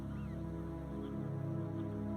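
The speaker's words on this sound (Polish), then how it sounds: "gwar ptaków" Waterfowl chatter across the flooded Biebrza marshes, a mix of honking geese and quacking ducks calling over a steady low background, moderately distant and continuous without speech.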